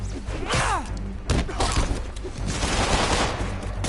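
Game gunfire and impacts during a fight against Shocker in Spider-Man on PS4, with bursts of shots, thuds and crashes, loud and dense throughout alongside other game effects.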